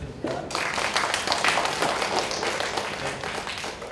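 An audience claps together after a lecture, a dense burst of applause that holds steady for several seconds at moderate volume.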